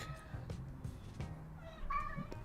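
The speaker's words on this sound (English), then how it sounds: "oh sorry, that was my cat." A pet cat meows a few times close by, short voiced cries rising over faint room noise, the clearest one near the end.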